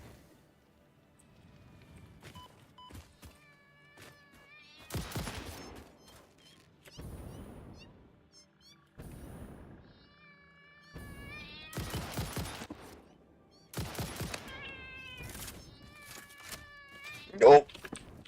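Repeated cat-like meowing cries from hostile creatures in the game Satisfactory, rising and falling over broadband bursts of in-game action, with someone talking throughout.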